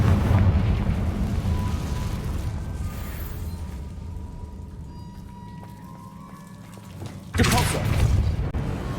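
Confringo fire spell in Hogwarts Legacy, a sudden loud burst of fiery explosion near the end, rising over a low rumbling game backdrop.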